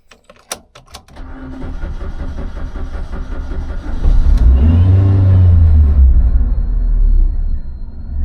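A supercharged Suzuki Swift ZC31S engine revs while reversing against rusted, seized brake calipers, a loud low rumble building to a strained, labouring roar after a few sharp knocks at the start.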